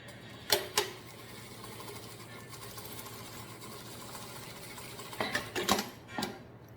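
A sewing machine stitching along a zipper on a baby document holder, a steady mechanical whir punctuated by clacking bursts at the start and near the end.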